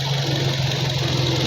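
Engine idling steadily right after start-up, a close, loud, continuous mechanical hum with a strong low drone and no talk over it.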